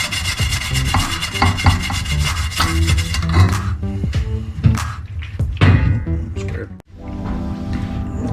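Steady scrubbing of a car pulley with steel wool and glass cleaner, a dense, continuous rasping rub that runs close and loud, easing briefly near the end before resuming.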